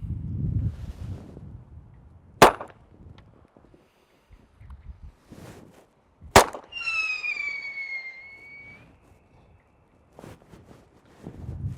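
A blank gun fires signal star pyro effects in two sharp, loud reports a few seconds apart, the second followed by a whistling, descending tone from the launched star, with quiet handling noise between the shots.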